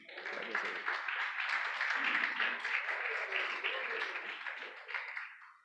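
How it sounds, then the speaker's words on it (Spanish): Church congregation applauding during a Spanish-language sermon, a dense steady wash of clapping lasting several seconds at moderate distance, with some voices mixed in beneath it. "Bríndele un aplauso al Señor."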